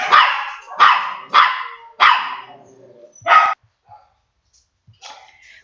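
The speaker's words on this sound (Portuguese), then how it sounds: "deu uma louca nos meus cachorros, eles pararam todos a latir ao mesmo tempo" Several dogs bark loudly together in a home, a burst of overlapping barks in quick succession followed by quieter yips and whimpers, with no speech.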